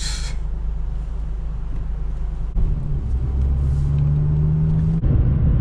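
An 8th generation Honda Civic Si drives along with a steady low engine rumble and road noise inside the cabin, the engine note rising slightly through a gear change, with brief shifts in tone.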